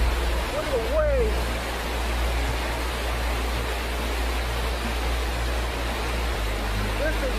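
Floodwater waves surge around a car during torrential rain, making a constant loud rushing wash. A brief whistle-like sound rises early on.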